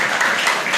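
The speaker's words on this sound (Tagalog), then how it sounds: "Sige, palakpak para sa Panginoon!" Congregation clapping during a worship service in praise of the Lord, dense broadband applause sustained and steady through the brief moment, fairly loud and close.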